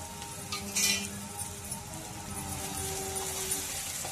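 Ginger pieces and green chilies frying in a pan of oil, a soft continuous sizzle with a few clinks of a metal spoon stirring against the pan, fairly quiet and close.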